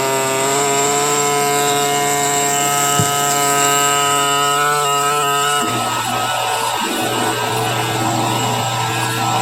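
A small air scribe chips rock matrix away from a fossil crab, giving a continuous loud high-pitched pneumatic buzz that holds steady throughout with a slight shift in tone partway.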